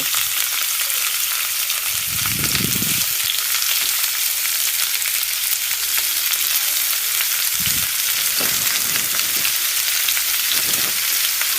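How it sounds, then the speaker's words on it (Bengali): Chopped onions fry in oil in a cooking pot for a katla fish curry, making a loud, continuous sizzle with a few soft stirring thumps and no talk. "প্রথমে হাঁড়িতে পরিমাণ মতো তেল দিয়ে দিব, তারপর পেঁয়াজ কুচি দিয়ে দিব"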